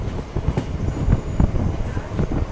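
The 17348 SSS Hubballi MEMU Express stands at platform 1 of Savanur station, its low rumble and faint clicking steady and nearby, with a murmur of crowd voices beneath.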